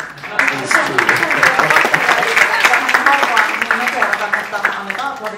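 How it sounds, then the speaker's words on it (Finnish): An audience in a church applauds, a dense crackle of clapping that swells quickly and continues steadily, with a voice talking over part of it. "please can we put our hands together for Mr. and Mrs. Mika?"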